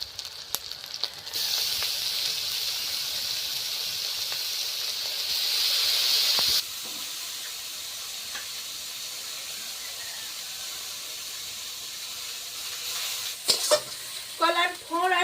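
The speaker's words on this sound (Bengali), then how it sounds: "তেলটা হয়ে গিয়েছে, এবার এই থোড়টা দিয়ে দেবো" Chopped banana stem hits hot oil with a loud hissing sizzle that drops sharply a few seconds later and settles into a steady quieter frying, with louder scraping and stirring clatter near the end.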